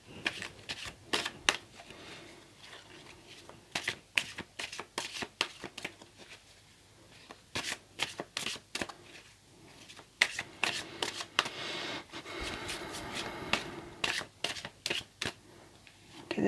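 Tarot cards being shuffled by hand, close and crisp, with repeated quick riffling bursts separated by short pauses, under a faint background hum.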